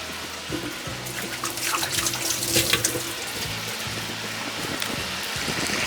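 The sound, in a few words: washing hands under running tap water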